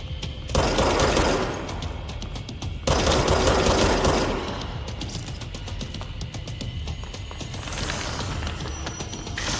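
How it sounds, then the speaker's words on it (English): Bursts of rapid automatic gunfire rattle in the video game Control, two dense volleys followed by quieter clattering and mechanical noise, with no talking. "I can always shoot him. Nothing wrong with shooting him."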